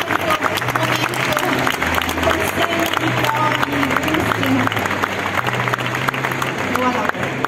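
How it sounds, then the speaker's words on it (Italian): Audience applause fills a gelato shop celebration in Italy, steady dense clapping lasting throughout at close range, with a lively crowd and voices underneath. "Dai un applauso alla Lombardia, così compriamo questo momento."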